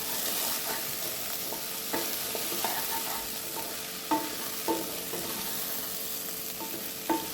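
Chopped ginger sautéing in a hot pan gives a steady sizzle, with occasional spoon scrapes and stirring clinks standing out close by and no talking.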